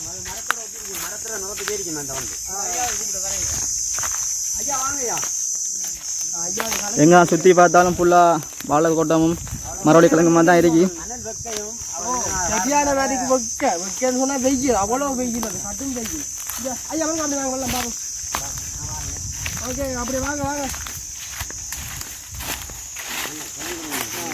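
A cicada-like chillur beetle in a Batticaloa village setting keeps up a steady, high, piercing buzz throughout, while people talk at length over it nearby.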